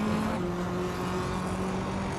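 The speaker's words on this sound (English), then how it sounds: "Katsushuk is driving a 2018 BMW M220." A 2018 BMW M220 in a racing video game, a steady droning engine note with a sustained hum, held at an even level without any talking.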